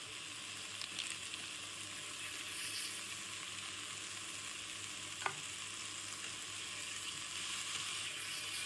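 Pieces stir-frying in a pan, a continuous close hissing sizzle with soft scraping from stirring and one sharp click midway, steady throughout with no talk.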